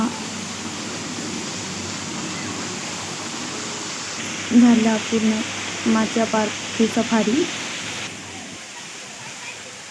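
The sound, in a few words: small decorative waterfall at Machiya Biological Park, Jodhpur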